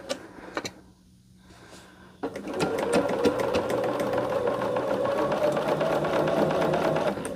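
Nearby, a sewing machine stitches a quilt strip for a sampler block, a few clicks and a quiet lull first, then a fast continuous run of stitching, loud and steady.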